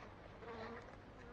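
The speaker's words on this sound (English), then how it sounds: "I've got a bee now that's gone into the top bit where I put the key" A single honeybee buzzes inside the top section of a Flow Hive, a faint, close, continuous drone lasting about a second with no talking.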